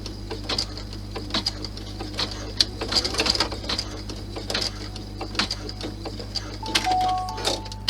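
A sewing machine stitches the end seams of a fabric cross-body messenger bag, its fast mechanical clatter running in short bursts with brief pauses, close and moderately loud over a steady low hum.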